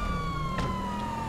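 Police car siren from Grand Theft Auto V, a faint, steady electronic wail heard alone in a brief in-game moment while police give chase.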